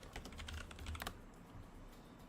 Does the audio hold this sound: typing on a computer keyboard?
yes